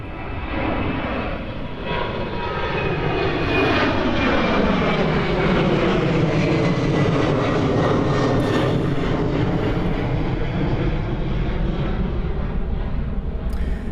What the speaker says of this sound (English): That's an 8-year-old 747-8 with destination Houston.